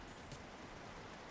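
Rain falls steadily in Euro Truck Simulator 2, an even, dense hiss that stays faint throughout with no talking.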